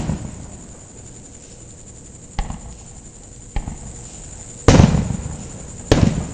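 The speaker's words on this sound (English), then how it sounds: "Fireworks right in your own backyard." Backyard fireworks on the Fourth of July in Scottsdale, Arizona: a few sharp, loud bangs spaced seconds apart, the last two big booms ringing out over a faint hiss between blasts.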